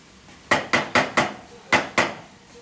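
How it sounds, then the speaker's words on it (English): A wooden spatula knocks against a pan while breaking up ground beef, giving six sharp, close hits. The first four come in quick succession, then there is a short pause before two more. "you can take your wooden spatula and just break up all your ground beef here."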